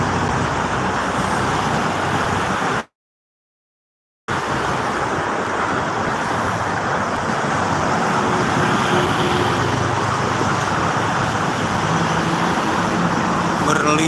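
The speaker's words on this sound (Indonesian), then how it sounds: "truknya udah normal kembali nih, makanya ramai truk" Trucks and other vehicles roll along the Jakarta-Cikampek toll road in a continuous broadband roar of traffic, with a brief dropout partway through and faint voices mixed in.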